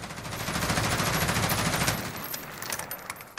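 An LVOA-C rifle in the Call of Duty Modern Warfare video game fires a loud sustained burst of automatic gunfire for about two seconds, then the rapid shots trail off into fading echoes.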